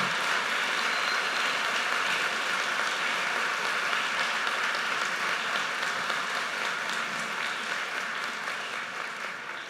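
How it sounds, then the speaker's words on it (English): An audience at a university ceremony applauds in a sustained, dense wash of clapping that holds steady and then fades slightly toward the end, with no voices over it. "please accept our heartfelt gratitude and a very hearty round of applause"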